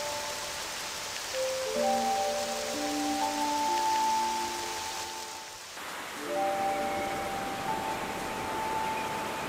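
Purple rain falls in the Octopath Traveler II video game, a steady hiss of raindrops under a soft tonal music line, briefly dipping quiet midway before the rain and music resume.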